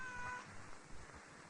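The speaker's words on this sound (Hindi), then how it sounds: "बिल्ली है बिल्ली।" A cat meows faintly in a quiet indoor night scene, a soft, brief call set against low background hiss with no voices.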